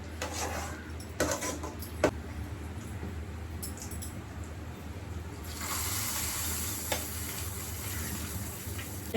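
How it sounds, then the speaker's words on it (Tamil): Chicken pepper fry sizzles steadily in a pan, with a few sharp stirring clicks early on and a brighter, louder hiss in the second half. No one speaks. "நம்ம மிளகு வறுவல், சிக்கன் மிளகு வறுவல் சூப்பரா ரெடி ஆயிட்டு இருக்கு"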